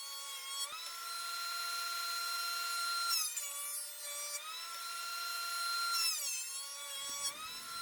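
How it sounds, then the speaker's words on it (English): Wood pieces fed through a jointer to flatten bandsaw-cut faces. A steady, close, high motor whine runs throughout, with its pitch dipping and rising as each pass cuts, and no talking. "I also made some passes with these pieces through the joiner to flatten out the bandsaw and"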